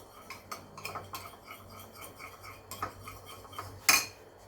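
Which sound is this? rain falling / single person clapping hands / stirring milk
stirring milk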